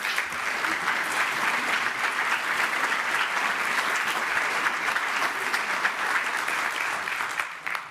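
An audience at a leadership forum applauds to welcome speakers onto the stage, a loud, dense, sustained clapping from a large crowd that fades slightly at the end.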